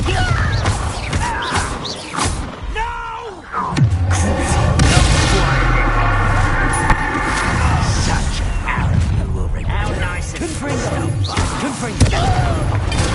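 A booming Bombarda blasting spell explosion in Hogwarts Legacy, a loud crash and rumble that follows a shouted incantation, with more voices and combat noise around it.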